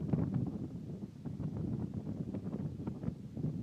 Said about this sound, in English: Weather here is cold and windy.